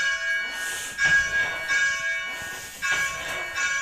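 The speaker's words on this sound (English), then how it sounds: "we can hear what is in this case the simulated sound of the bell as it rings" A simulated church bell, played from a computer, rings in repeated strikes with a bright, lingering metallic tone, each stroke swelling then fading, fairly close and moderately loud.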